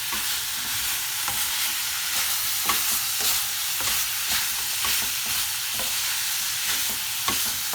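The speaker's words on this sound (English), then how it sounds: "give it all a good stir so everything is coated nicely with the spice mixture" Chicken pieces stirred through a spice mixture in a hot pan, giving a steady close sizzle with repeated scraping and stirring strokes throughout, no voices.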